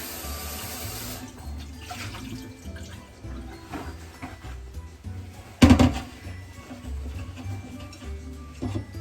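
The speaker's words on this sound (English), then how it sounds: "let me rinse my bowl out" A bowl rinsed under a running kitchen tap, steady flowing water with a brief louder splash and clatter midway.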